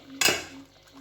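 A single sharp metal clank of a spoon against the pot as prawn malai curry is served onto a plate, close and bright, followed by a quiet tail with a faint low hum.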